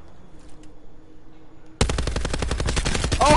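Video game machine gun opening up abruptly after a quiet stretch, a rapid, loud, unbroken burst of evenly spaced shots continuing to the end.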